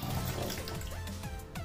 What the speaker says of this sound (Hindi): इधर मैंने ओपन किया इसको और जो पानी है इसमें डाल